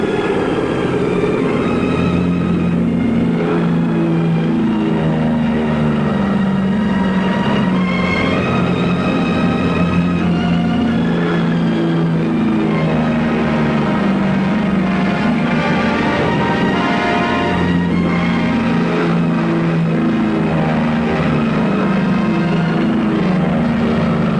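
A WW2 fighter plane's engine at full throttle for takeoff makes a loud, continuous, steady roar that drones without break throughout.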